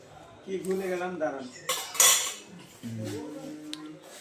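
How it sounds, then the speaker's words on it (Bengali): A metal spoon clinking against dishes during a meal, with a few close, bright clinks and scrapes, and a voice talking around them. "এই যে চামিচ, এই চামিচ দিয়ে খাইতে হয়।"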